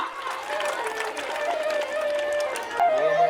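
Children applaud at a school function, a steady spread of clapping from a crowd lasting a few seconds, with voices and some tonal sound mixed underneath.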